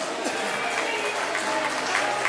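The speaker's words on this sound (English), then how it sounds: "A round of applause, please" Guests at a birthday party applaud in a brief, continuous burst of clapping blended with crowd noise, with voices mixed in underneath.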